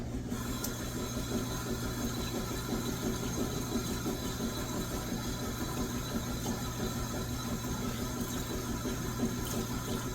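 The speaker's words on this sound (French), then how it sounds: "Là, je rince bien parce que le microfibre Norwex, là, il a une capacité d'absorption 7 fois son poids." Running water from a tap splashing steadily as a Norwex microfibre cloth is rinsed, a constant even rush with a low mechanical hum underneath.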